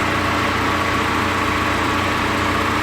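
An Audi A4 2.0 TDI diesel engine idles at steady revs, a continuous low rumble with a faint mechanical buzz, close and constant with no voices.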